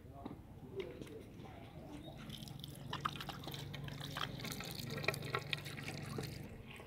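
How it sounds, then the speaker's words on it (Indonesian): Hands are washed with soap under running water at an outdoor venue, the steady splash and trickle close by while voices talk in the background. "mencuci tangan dengan sabun dan air mengalir"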